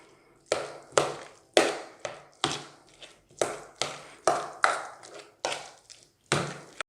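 Pumpkin and two flavors of dog food are stirred together in a bowl, giving a series of about a dozen sharp, evenly spaced scraping and tapping strokes with short pauses, close and clear with no talk.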